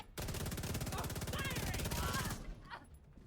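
An assault rifle in The Division 2 video game rattles off a rapid, continuous burst of automatic fire lasting about two seconds, loud and close, followed by a brief quieter tail.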